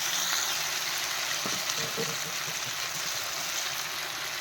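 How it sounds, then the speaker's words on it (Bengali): Water poured into a fish-head and cauliflower curry frying in the pan. A steady sizzle goes on, with a few splashy bursts partway through, and a voice is faintly audible in the background. "জলটাকে দিয়ে দিচ্ছি"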